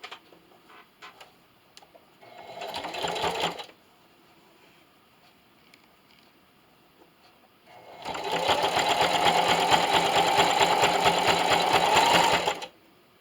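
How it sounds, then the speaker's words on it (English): Sewing machine running a zigzag stitch down the edge of a hot jar canning mitt to attach its binding, a short whirring burst followed by a longer, steady rattling run close by with no talking. "I'll meet you over at the sewing machine. I switched my stitch to a zigzag stitch."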